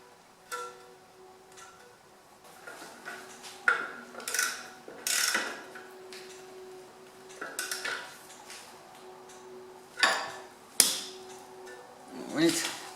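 A bolt being put back in and tightened on a Kubota B7001 tractor, a series of quiet metallic clinks, taps and ratcheting clicks in irregular bursts, close by, with some speech between them.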